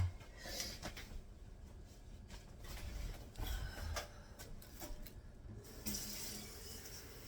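Tap water pours steadily into a cup at a kitchen sink, a close, continuous hissing splash that swells slightly near the end, with no talking.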